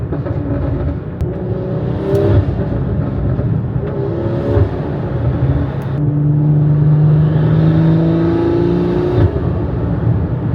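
A BMW M340i engine revs hard while driving, a loud, close droning growl that swells and eases as the throttle changes and holds throughout.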